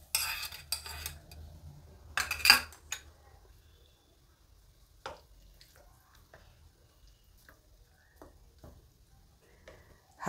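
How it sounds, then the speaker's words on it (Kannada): A spoon mixes freshly fried tempering into batter for crispy masala rice paddu, giving sparse metallic clinks and soft scrapes against a bowl, close but faint in a quiet kitchen. "ಈಗ ಒಗ್ಗರಣೆನ ಹಿಟ್ಟಲ್ಲಿ ಸೇರಿಸ್ತಾ ಇದ್ದೀನಿ."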